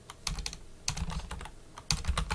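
Close typing on a computer keyboard, three quick bursts of crisp key clicks separated by short pauses, at moderate loudness with no talking.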